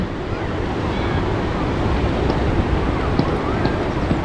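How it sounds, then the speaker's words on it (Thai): Steady roar of sea waves washing onto an English beach, a dense continuous rush with some wind buffeting the microphone, no clear voices. "พาทุกคนมาชมบรรยากาศ ทะเลอังกฤษในวันหยุดจ้ะ"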